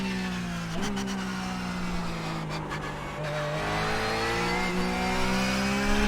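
A car engine revs and shifts gears steadily in the iRacing sim racing game as the car is thrown around the track, rising and dropping in pitch with a constant loud drone and no talk.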